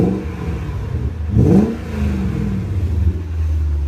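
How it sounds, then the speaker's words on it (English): A 1997 BMW 540i with a V8 and six-speed gearbox is revved, its engine rising in a quick, loud surge and settling back to a steady idle close by. "Give it a few revs."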